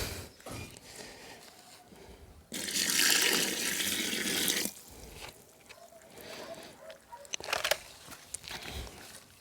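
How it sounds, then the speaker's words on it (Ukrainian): Water is poured into a mortar mix in a bucket for a DIY summer outdoor shower, giving a loud splashing burst for about two seconds among quieter handling noises. "якщо що додати, додаємо потрошку водички"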